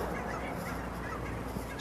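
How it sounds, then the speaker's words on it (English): Geese honking as they fly overhead outdoors, faint and distant cries over low background rumble, with no talking. "Some geese flying over"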